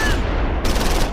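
Rapid bursts of gunfire from the Close Combat 4 war game, set in the Battle of the Bulge at Losheim, rattle densely and loudly with no pause throughout the short span.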